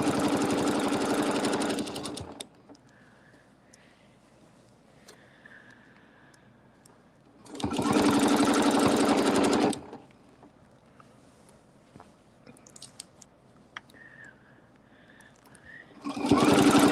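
A sewing machine stitching quilt blocks together runs in three separate bursts of steady, loud, rapid whirring. Between the bursts there are quiet gaps that hold only faint clicks and handling noises.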